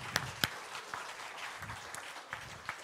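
Scattered hand claps from a church congregation, a few sharp near claps early on and then sparser, softer ones over a low murmur of the room.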